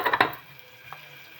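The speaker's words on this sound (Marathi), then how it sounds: "हे बघा आता टाकूया डाळ आणि तांदूळ टाकलं." Dal and rice dropped into hot oil in a pan with the gas off and stirred, giving a couple of quick clattering scrapes and a soft sizzle that fades to a quiet hiss.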